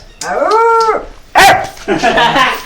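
A woman imitates a barking dog with a drawn-out, howl-like whine followed by sharper yelping barks, loud and close.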